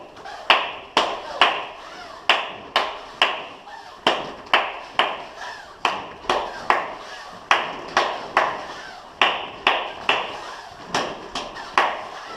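Hands clap a steady capoeira rhythm, sharp and close, with uneven groupings of claps repeating over and over, no talking between.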